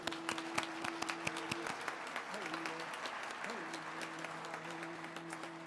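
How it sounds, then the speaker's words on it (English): Applause at an Indigenous convocation ceremony, a steady crowd clapping at moderate distance with sustained tonal hum and talk mixed in throughout. "So a round of applause"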